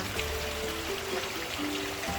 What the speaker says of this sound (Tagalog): biglang lumaki yung tubig sa ilog, oh